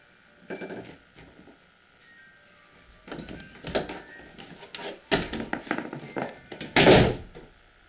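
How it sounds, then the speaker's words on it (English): Several heavy wooden thunks and knocks in a New York hotel, including a loud door slam near the end, irregularly spaced and close. "Right when the door slammed, it stopped."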